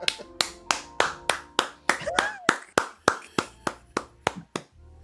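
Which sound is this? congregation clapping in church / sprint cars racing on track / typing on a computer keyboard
congregation clapping in church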